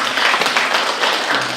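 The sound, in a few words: audience applause at a concert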